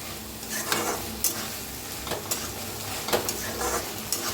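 A spoon scrapes and stirs a sizzling pan after spoonfuls of crushed roasted peanut powder go in, giving irregular scraping strokes over a steady frying hiss, with no voices.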